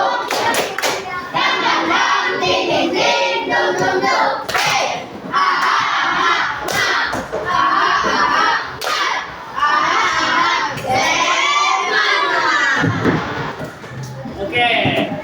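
A class at the end of an Islamic religious lesson performs a rhythmic spirit clap. Bursts of patterned clapping mix with children chanting and shouting together, loud and close throughout.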